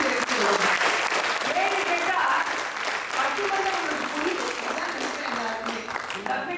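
Sustained applause from an audience at a Tamil festival speech event, a dense steady clapping that fills the room, loud at first and easing slightly while continuing to the end.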